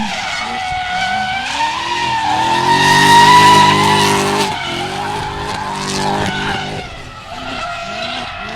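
A drift car skids with sustained tire squeal at Meremere Drift Park, engine howling loud and near, the screech swelling in the middle before easing off.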